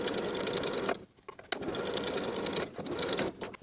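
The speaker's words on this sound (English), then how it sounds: "sewing the facing to its seam allowance underneath with about an 1/8 inch seam allowance from the top to the notch" Sewing machine stitching a pant fly facing to its seam allowance about an eighth of an inch from the edge, running in steady bursts with two short pauses, close and clear.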